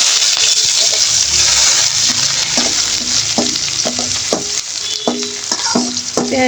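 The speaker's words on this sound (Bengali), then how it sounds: "কিছুক্ষণ নেড়ে চেড়ে হালকা বাদামি কালার করে বেজে নিব" Chopped onion and garlic fry with bay leaf, cardamom and cloves in a pan for khichuri. A loud continuous sizzle runs close up while a spoon scrapes and stirs in a steady rhythm of repeated strokes.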